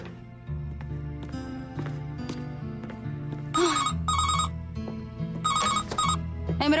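An old-style telephone bell rings in two loud, close bursts over soft background music in a Greek-dubbed TV series scene.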